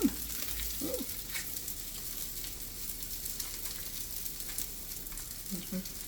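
Bacon frying in a pan for a home meal-kit dish, a faint, even sizzle running steadily with a few soft clatters of utensils near the start and end, quiet and close.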